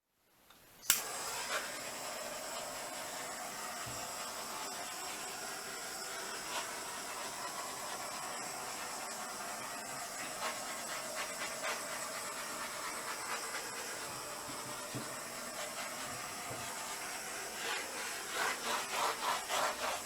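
Hissing roar of a handheld torch flame played over an acrylic pour painting, a steady broadband rush starting abruptly and continuing throughout with faint crackles, fairly close and without talk.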